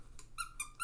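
A flamingo-shaped plush dog toy with long rope legs squeaks in a few quick, fairly quiet bursts, with no talking over it.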